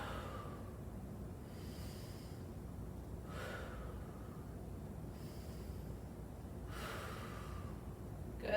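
During a balance exercise class, deep breaths are drawn and released at slow, regular intervals, heard as soft airy rushes over a constant low background hum.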